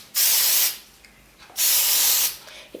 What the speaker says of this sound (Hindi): थोड़ा सा स्प्रेइंग डाल दीजिए हेयर स्प्रे।